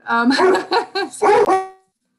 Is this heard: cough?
no